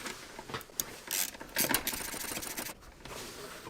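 Small 5mm hex bolts are spun in by hand on the ABS control module of a 2001 Mini One Cooper, giving quick close ratcheting clicks in short bursts with brief pauses.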